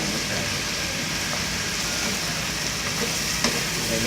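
Pork frying in a pan while a Thai stir-fry cooks, a steady broadband sizzle lasting throughout, moderately loud and close, with no voices over it.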